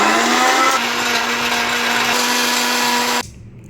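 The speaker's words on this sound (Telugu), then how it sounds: "ఇప్పుడు దీన్ని మిక్సీ పడతాం" A kitchen mixer grinder blends banana with ice pieces in a loud, steady, close motor whir that holds its pitch for about three seconds and then cuts off abruptly.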